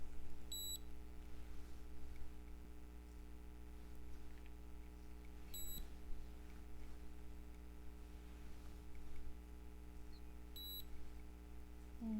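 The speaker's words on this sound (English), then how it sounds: "Now, the device will beep every 10 seconds." A Nu Skin galvanic facial spa device gives three brief, high electronic beeps about five seconds apart, faint and isolated against a low steady room hum.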